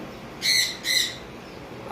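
Two loud, harsh cockatiel calls close together, each a shrill squawk lasting under half a second, with quiet between and no other sound.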